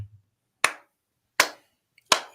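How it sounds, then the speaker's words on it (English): Three sharp hand claps, spaced slowly and evenly, loud and close in an otherwise quiet room. "Proper clap."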